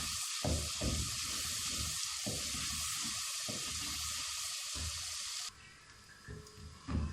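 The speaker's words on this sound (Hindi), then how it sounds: "अदरक लहसुन फ्राई हो चुका है" Ginger and garlic fry in a pan for a Chitrali pea and moong dal dish, a dense steady sizzle with pulsing crackles that softens after a few seconds.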